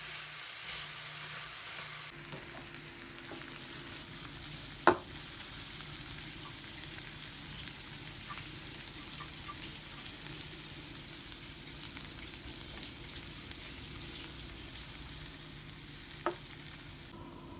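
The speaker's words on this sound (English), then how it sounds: "we'll just keep stirring this around here. Letting these sweat just a little bit in a dry pan" Vegetables sweating in a dry pan while being stirred for a herb butter ribeye steak dish, a soft, steady low sizzle with faint scraping and one sharp clink of utensil against pan.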